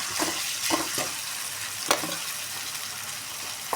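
Onions, green chilies and curry leaves with ginger paste frying in hot oil, a steady close sizzle with a few stirring scrapes and spoon clicks breaking through.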